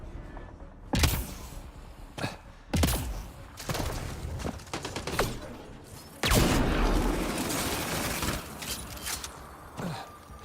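A firefight in the video game Mass Effect Andromeda, with sharp gunshots cracking at irregular intervals, then a loud sustained burst of weapon fire and impacts, with clattering crashes among the shots.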